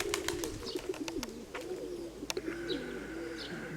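Soft low cooing from a young female pigeon repeats steadily, with brief chirps and a few sharp clicks or taps scattered over it, close by and moderately quiet.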